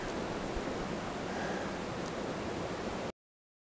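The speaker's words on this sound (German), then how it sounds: "Weil hier haben sie dann doch ein paar Stromschnellen zu bewältigen." Rapids on a river flowing out of a lake on Alaska's Kenai Peninsula make a steady, dense rush of water, broadband and unbroken, until it cuts off abruptly.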